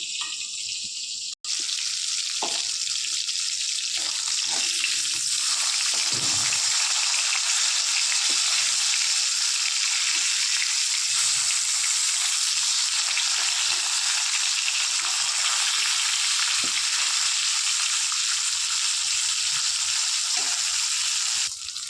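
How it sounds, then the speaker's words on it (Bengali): Loud, steady sizzling of katla fish frying in hot oil, continuous throughout with occasional faint clinks. "মাছটা ভাজা হয়ে গেছে, এবার উঠিয়ে নেব।"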